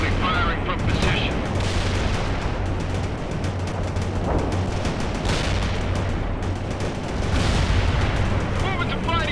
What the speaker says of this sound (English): Bradley firing from position.